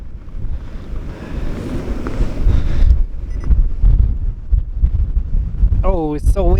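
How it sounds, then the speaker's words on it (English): Heavy wind at sunset buffeting the microphone of a Pentax Optio E30 digital camera with a constant low rumble, a brief voice near the end. "Oh, it's so windy."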